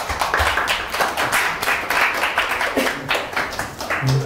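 A seminar audience applauds a speaker after a talk, a steady wash of many hands clapping at moderate distance that holds for a few seconds with no voices over it.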